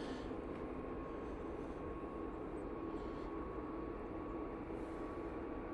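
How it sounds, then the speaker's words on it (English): An Easyjet A321neo jet departs Manchester Airport, a steady, moderately faint engine rush with a thin constant whine that continues evenly without change and with no talking. "Easyjet A321neo going to Palma de Mallorca out next."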